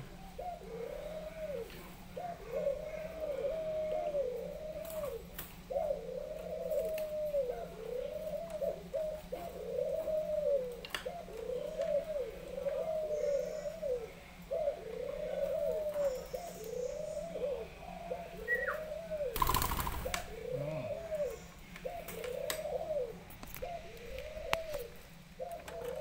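A Malaysian decoy bird, a dove, coos in a steady, repeating rhythm of soft, rounded calls close by. A brief loud knock breaks in near the end.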